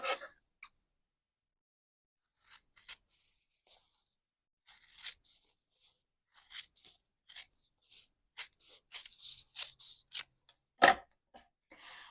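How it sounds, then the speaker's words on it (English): Scissors snip lengthwise down a long strip of kinesiology tape, giving a run of short, crisp cuts and rustles that speed up toward the end, with near silence between some snips. "what you're going to do with that long strip is you're going to go ahead and cut it in half down the length"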